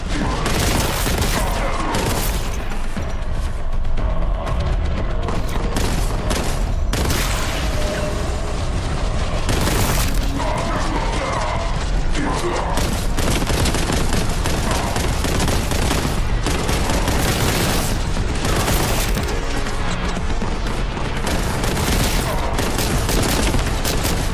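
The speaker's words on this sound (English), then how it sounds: "Oh, someone's shooting at me." Sustained gunfire and heavy blasts fill a fight in the video game Warhammer 40,000: Boltgun on PS5. Loud bursts and booms run continuously with no pauses, dense and close throughout.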